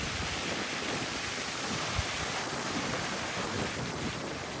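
Ocean surf pounding a seawall on Cape Cod, a continuous loud roar of crashing water with heavy wind across the microphone and no speech.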